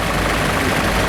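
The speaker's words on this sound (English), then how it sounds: "this is like a 15-20 tractor, compact tractor" A compact tractor, a historic agricultural machine in the arena parade at an autumn country show, runs at a steady idle with an unbroken engine drone throughout.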